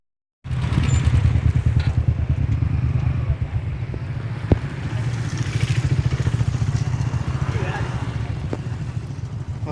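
A Bajaj Discover motorcycle rides with a fully geared-up rider during an anniversary meet-up group ride in Hyderabad, with a steady engine drone and wind rush throughout and a brief knock near the middle.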